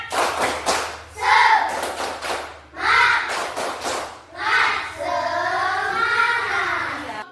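A school class claps a rhythmic spirit clap led by a teacher, with short bursts of patterned clapping and thuds mixed with children's voices and chanting, loud and close.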